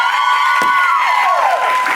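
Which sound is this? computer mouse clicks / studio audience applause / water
studio audience applause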